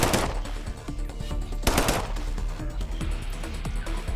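Rapid automatic gunfire rattles almost without pause as bots are shot at in System Shock Remake, loud and close, with dense bursts of sharp reports and a few heavier blasts standing out, no voices.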